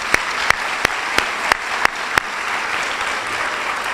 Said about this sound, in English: Another round of applause to everyone.